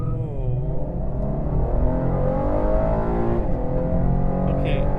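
A 2019 Chevrolet Camaro RS in sport mode with traction control off accelerates hard, heard from inside the cabin: a loud, steady engine roar climbing in pitch through the gears, with a continuous low rumble.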